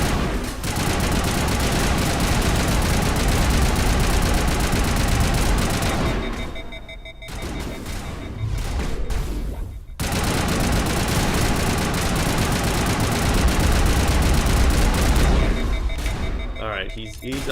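Incoming gunfire in the Mass Effect video game, loud and near, with sustained bursts of rapid shots and booming impacts, broken by two short lulls, and a voice speaking over it.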